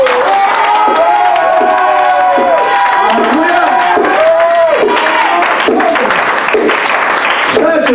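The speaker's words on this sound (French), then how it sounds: "Je veux d'abord une acclamation" A church congregation breaks into loud cheering and acclamation at a sermon, voices rising in sustained shouts over a dense, continuous crowd roar with clapping mixed in.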